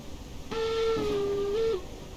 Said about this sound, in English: Oh, the whistle. I love the whistle.